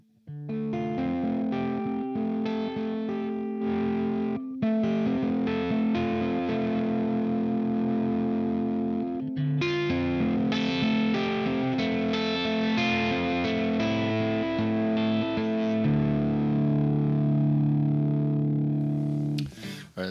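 An electric guitar is played through an effects pedal, with sustained distorted chords and notes ringing in a thick, chorused tone, changing every few seconds and heard alone without talk.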